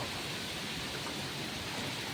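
Heavy storm rain pours in a dense, steady roar, driven by strong wind with no break, loud and constant throughout.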